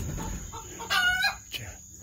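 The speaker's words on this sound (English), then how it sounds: "You hear them birds that drive you crazy?" Chickens cluck and a rooster gives a short crow at close range in a coop, amid low background noise and a steady faint hum.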